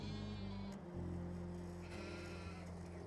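Sheep bleating in the farming game Farming Simulator 22, two drawn-out wavering calls one after another, faint and close with no talking.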